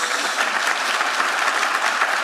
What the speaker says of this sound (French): On peut les applaudir en effet.